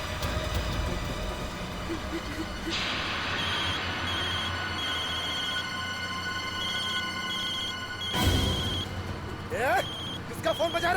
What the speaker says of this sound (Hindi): किसका फोन बजा?